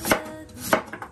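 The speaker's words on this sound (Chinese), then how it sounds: "土豆切片" A knife slices potatoes on a chopping board for a home Hong Kong family dinner, giving two distinct, close cuts with no talk.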